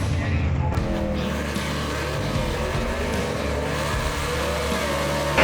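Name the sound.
55 Chevy drag car launching off the line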